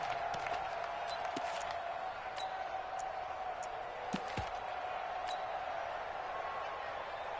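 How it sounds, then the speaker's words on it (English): A stadium crowd in an American football video game murmurs and cheers steadily at a distance before a big third down, a constant broad roar with scattered thumps and claps. "the crowd getting into it as we come up on a big 3rd down"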